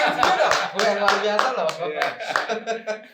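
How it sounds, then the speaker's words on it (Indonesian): Studio audience applauding during an Indonesian talk show, with a burst of hand clapping mixed with voices and some laughter. "Tepuk tangan yang dong."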